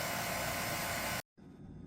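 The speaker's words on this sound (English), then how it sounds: "Pulling a vacuum on my recovery tank." A vacuum pump pulls a vacuum on an r134a refrigerant recovery tank, a loud steady whooshing drone that stops abruptly for a moment, then resumes more quietly.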